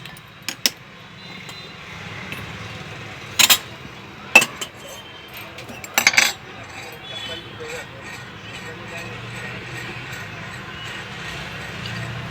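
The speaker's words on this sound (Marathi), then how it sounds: "आता आपण गॅस चालू करून कढईत तेल घालून घेऊ" A spoon clinks against a kadhai on a gas stove as oil is added, a few sharp metallic taps spaced apart over a quiet background, with someone talking.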